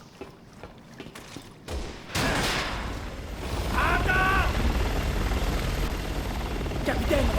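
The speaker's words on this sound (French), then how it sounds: "Cet hélico va bientôt nous tirer dessus." A helicopter in the video game Resident Evil 6 drones with a steady loud rotor roar that swells and holds, mixed with game effects and bursts of noise.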